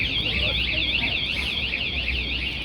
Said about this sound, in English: Someone's alarm just went off